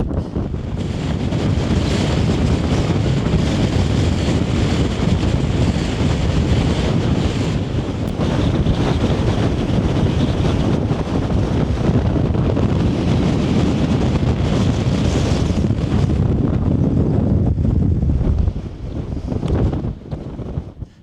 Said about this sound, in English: It's just absolutely brutal with the wind.